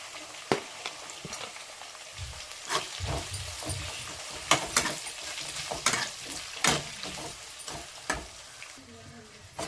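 Small chopped onion pieces fry in a pan, a soft sizzle punctuated by frequent sharp scrapes and taps from stirring, moderately quiet and with no voice.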